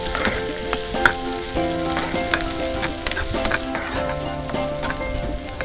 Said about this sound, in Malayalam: നന്നായി വഴറ്റിയെടുക്കണം നന്നായിട്ട് ഒരു ഗോൾഡൻ ബ്രൗൺ ആവുന്നവരെ നമ്മൾ വഴറ്റിയെടുക്കാം